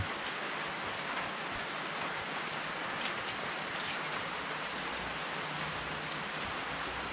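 Steady rain pours down in a rural farming area in the provinces, an even, continuous hiss of drops on surfaces that holds without a break throughout, with no voices.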